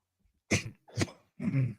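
Three harsh coughs in quick succession, close and fairly loud, with short pauses between them.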